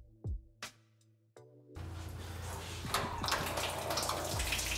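Coolant pours from the loosened radiator drain plug of a Ford F100, a steady watery gush that swells and grows louder after a couple of brief drips and clicks, with no talking.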